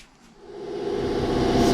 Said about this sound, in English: the compressor's on now because I've just blown this filter out with the airline